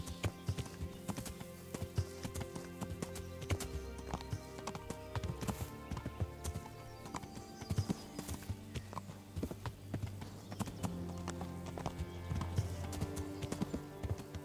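Hooves clip-clop in a steady trotting rhythm, with a horse's whinny and other game sounds mixed in, from the medieval video game Kingdom Come: Deliverance.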